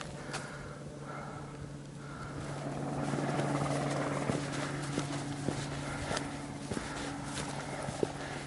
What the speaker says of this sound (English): Oh, it's a rescue helicopter.